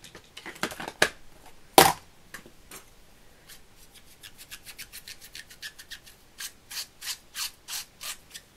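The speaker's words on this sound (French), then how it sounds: "désolé pour le bruit, c'est quand je nettoie les tampons" Rubber stamps being cleaned after stamping a handmade card, with scattered rubbing and scraping bursts that settle into a regular run of quick scrubbing strokes at close range; no talking.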